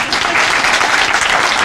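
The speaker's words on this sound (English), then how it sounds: "can we give them a round of applause?" An audience at a library grand opening claps loudly and steadily for young attendees seated up front, a dense, even round of applause.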